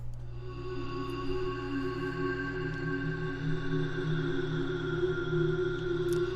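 A sustained, droning time-stretched synth pad holds layered steady tones with a washed, reverberant sheen, evolving slowly and evenly with no talking.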